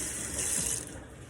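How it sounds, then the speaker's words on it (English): Water runs steadily from a sink tap as soapy hands are rinsed, a loud, even hiss and splash with a slight drop in level near the end, with no talking. "you're going to turn your water back on and you're going to rinse your hands off"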